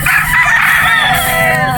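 A gamecock rooster on a game farm in Batangas crows once in a long, loud, drawn-out call right near the listener, with faint background noise around it.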